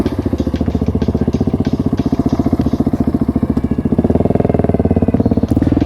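A Husqvarna 701 motorcycle engine runs close by with a steady, rapid single-cylinder thump, loud and continuous throughout, its pitch lifting slightly near the end.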